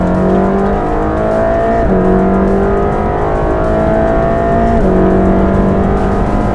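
A Mercedes-AMG GT Black Series with a flat-plane-crank twin-turbo V8 roars loudly and continuously, its pitch climbing through gears in repeated rising sweeps with brief dips at each shift.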